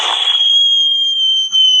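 In the video game Fireworks Mania, a firework in a Deepavali celebration gives a short hiss followed by a loud, steady high-pitched whistle that holds for nearly two seconds before a faint crackle.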